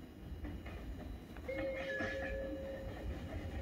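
A Meitetsu train rolls through Utsumi Station on the Chita New Line at night with a steady rumble and clatter, a brief high tone sounding partway through, fairly distant and quiet.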